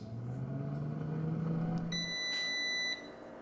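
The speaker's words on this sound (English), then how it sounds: "Alright, there's the beep." Air fryer beeping as its cooking time ends: a single sustained high electronic tone lasting about a second over a low fan hum that winds down just before.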